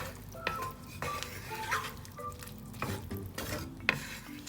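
Chilli paneer with spring onion and chopped coriander stirred in a pan, a spoon scraping and clacking in irregular strokes over a steady frying sizzle, close and fairly quiet, with no voices.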